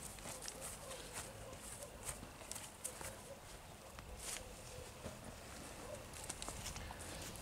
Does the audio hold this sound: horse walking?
yes